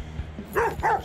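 A dog in the video game Life is Strange: Before the Storm gives two short, close barks about a third of a second apart, with quiet game ambience between them.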